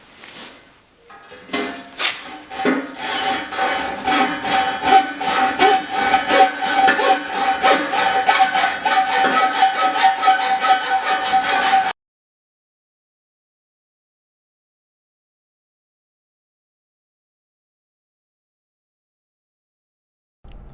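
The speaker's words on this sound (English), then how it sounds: "so I gotta use the old hacksaw" A hand hacksaw cuts through steel, its rapid back-and-forth rasping strokes loud and close for about ten seconds before stopping abruptly into silence.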